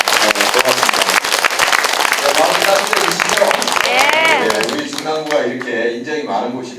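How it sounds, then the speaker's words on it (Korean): A crowd at a community market support event gives a big, dense round of applause that fades out as a voice speaks over the tail end. "우리 힘내시라고 그리고 고맙다고 어, 큰 박수 한번 보내주세요"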